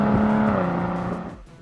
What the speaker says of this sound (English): And that exhaust.